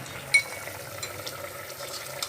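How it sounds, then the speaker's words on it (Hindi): Potato yakhni boiling hard on a high flame in a pot, giving a soft, steady bubbling and simmering hiss throughout, with one brief sharper clink near the start. "ये हमारी जो जखनी है ये फुल फ्लेम पे उबल रही है"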